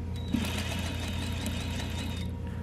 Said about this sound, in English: and we're sewing at a 1/2 inch the entire length.